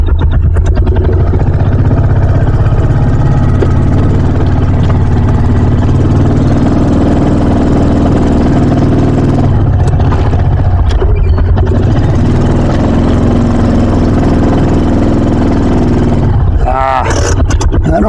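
A Kawasaki Mule utility vehicle's engine runs loud and steady in four-wheel drive, with a rough, constant mid-pitched drone close by. It dips briefly near the end.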